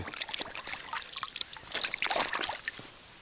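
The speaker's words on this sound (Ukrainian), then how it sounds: "Занурюємо нашу рукавичку у воду, дивіться." A fishing glove dunked and swished in water, giving scattered splashes, trickles and sloshing drips that grow busier toward the end, close and moderately quiet, with no voices.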